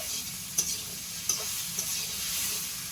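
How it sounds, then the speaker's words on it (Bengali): Vegetables frying in a pan while cooking rohu fish with drumsticks, a steady close sizzle with three sharp clinks of a spatula stirring against the pan, and no talk. "সবজিটা আরো একটু ভেজে নিচ্ছি"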